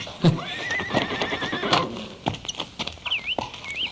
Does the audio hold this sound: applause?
no